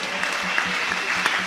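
A church congregation applauding steadily in praise during a worship service, a dense, close wash of clapping with occasional voices mixed in.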